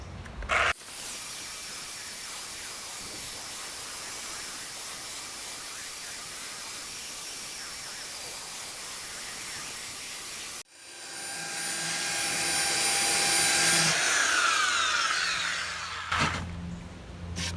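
A power sander grinds steadily and loudly across a wood surface to remove laser engraving, with a high motor whine, cuts out briefly partway through, then starts again with a rising pitch.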